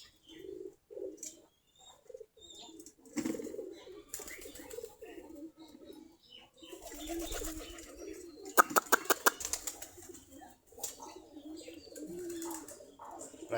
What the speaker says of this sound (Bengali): আমাদের দেশি গিরিবাজ কবুতর।